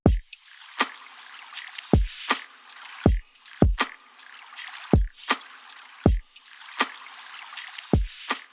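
Lo-fi drums built from organic Foley textures: soft thumping low hits and clicky, rustling, watery-sounding percussive layers falling into a loose, relaxed groove, played alone without voices.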